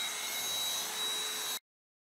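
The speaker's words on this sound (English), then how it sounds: "Or maybe you're trying to live stream some sweet vacuum cleaning content." Vacuum cleaner sucking up crumbs, a steady high whining roar that runs for about a second and a half, then cuts off abruptly to silence.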